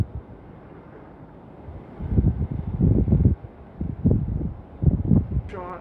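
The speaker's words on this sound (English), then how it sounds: "Now here comes that wind." Outdoor wind gusts buffet the microphone in low rumbling surges, starting quiet and rising into several strong blasts over the last few seconds.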